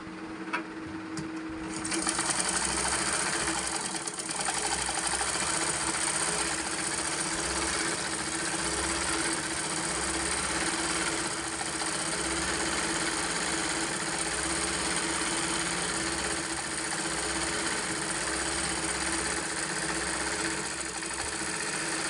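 Steady electric sewing machine running continuously while stitching a pillow cover for a divan cot from an old nightie, a close, even mechanical hum with no pauses and no talk.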